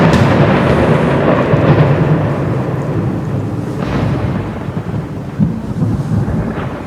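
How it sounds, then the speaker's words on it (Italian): A deep, loud roll of thunder rumbles continuously, shaking the air with a heavy low boom that slowly fades without fully dying away. "un tuono scuote l'aria"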